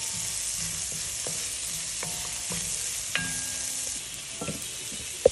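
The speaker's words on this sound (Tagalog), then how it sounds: "I-golden brown lang natin yung bawang at saka sibuyas." Garlic and onion sauté in a pan with a steady close sizzle, while a utensil stirs and now and then scrapes or taps the pan.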